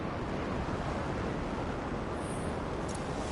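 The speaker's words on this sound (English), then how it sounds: "waterfall ahead if you want to cool your suit" A waterfall in the video game Anthem rushes as a steady, dense broadband roar, loud and unbroken, with no speech.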